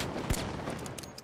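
Rapid gunfire from an R.357 revolver in the video game The Finals crackles in a dense, mid-distance burst with one sharp report standing out, no talk over it.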